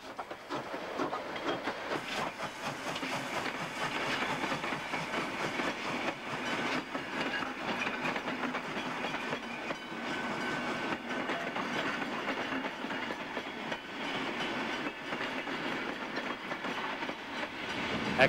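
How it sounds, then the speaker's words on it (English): Victorian J-Class 515 steam locomotive hauls a train past, giving a sustained rumble with steam hiss and rhythmic clickety-clack of wheels on rails, steady and fairly near, with no talking. "accompanied to Melbourne by the Victorian J-Class 515 with its distinctive red smoke-deflecting plates"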